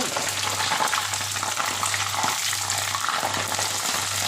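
Homemade potato chips deep-frying in hot oil on a gas stove, a loud, steady, dense sizzle with constant crackle that runs unbroken from start to finish.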